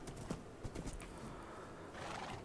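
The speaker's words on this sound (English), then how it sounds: "I wanted to show you me tame this horse" Horse sounds in the Minecraft video game, with a few soft clip-clop steps early on and a faint whinny-like call near the end, quiet against low background noise.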